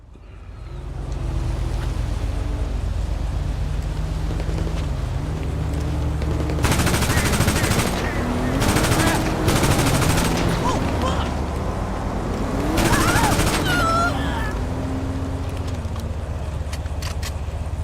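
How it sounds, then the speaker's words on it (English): Automatic gunfire exchange in GTA Online, bursts of machine-gun fire trading back and forth amid vehicle and water noise, loudest in dense volleys midway and near the end, with players talking over it. "We were shooting at him and now he's shooting at us."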